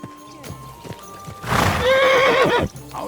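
In the medieval game Kingdom Come: Deliverance II, hooves clop softly before a horse lets out a loud, close neigh that rises and falls for about a second, followed by a few more hoof sounds.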